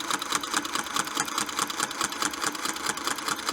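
A Westalee Spin-e-fex 2 sewing machine stitches at a steady, fast pace, its needle producing an even, buzzing mechanical chatter that runs close and continuous without pause.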